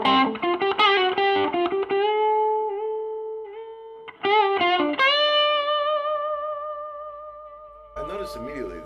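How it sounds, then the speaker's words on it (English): Veleno Original Legacy electric guitar played through the bridge pickup with light distortion: a run of picked notes, then long sustained ringing chords that fade slowly, a second strummed burst, and a brief noisy clatter at the end. "here's the bridge pickup with a little bit of distortion"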